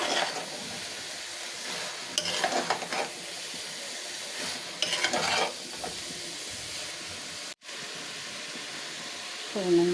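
Spring onion, cabbage and green chilli for chow mein stir-fry in a hot pan, with a steady sizzle broken by bursts of scraping and tossing from a spatula. The sizzle is moderately loud and close, with no speech.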